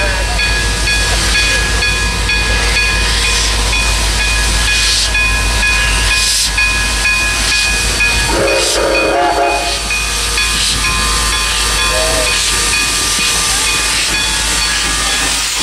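Grand Canyon Railway steam locomotive No. 29 hisses loudly and steadily while being serviced after passengers leave, a dense roar of escaping steam filling the whole stretch with faint tonal whistling lines running through it.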